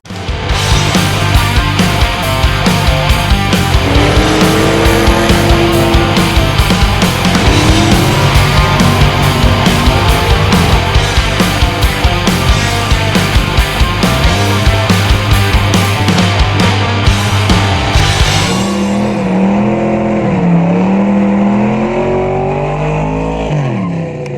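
Engine of a restored 1981 Jeep CJ7 running loud and close, a steady roaring drone with shifting revs, cutting to a quieter idle near the end; no talk.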